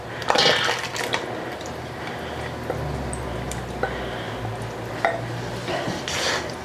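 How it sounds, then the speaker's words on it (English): Oil gets stirred into dry baking ingredients in a bowl, giving soft scraping and squishing with a few clinks of a utensil against the dish, moderately close and with no talk. "Mix that in really well."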